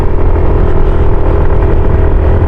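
Yamaha NMAX v2 motor scooter climbing a steep hill road, its engine a steady, loud, close drone that holds without pause, with no talking over it.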